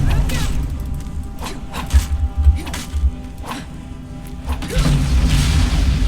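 Fire from a magic scroll strikes a Draugr Death Lord in the Skyrim fantasy game, a few heavy booming thuds and crashes with whooshing bursts over low rumbling game ambience.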